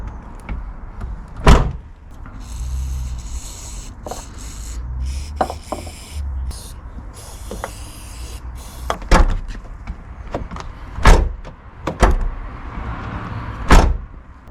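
A 2008 Smart car's door with freshly lubricated hinges, opened and closed repeatedly in a workshop, with several sharp clunks and latch thuds spaced across the clip over low rustling and handling noise.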